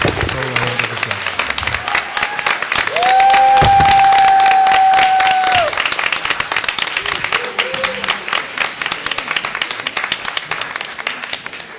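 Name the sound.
applause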